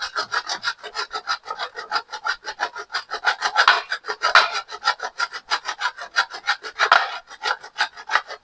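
Frozen cheese grated by hand for a homemade pizza topping, a steady run of close, loud rasping strokes in quick even rhythm for about eight seconds, with no voices over it.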